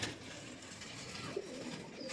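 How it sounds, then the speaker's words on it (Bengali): Pigeons coo softly and intermittently while being let out of their coop, a quiet, low murmur with one brief louder note partway through and no talking. "তো আপাতত আমরা এখন পায়রাগুলো সব ছেড়ে দেবো"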